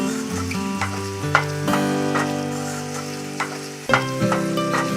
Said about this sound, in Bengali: ওই তেলের মধ্যে লবঙ্গ, দারচিনি, এলাচ দিয়ে পেঁয়াজের কুচি দিয়ে বাদামি করে ভেজে নিতে হবে।